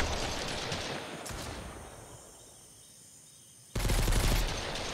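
Gunfire in the Mist Survival video game, a dense, sustained crackle of distant shots that fades toward quiet, then bursts back loud and abrupt near the end.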